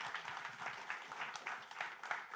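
Steady, fairly faint applause from a small audience at a startup fundraising talk at Google Campus, dense even clapping holding for a couple of seconds with no voices over it.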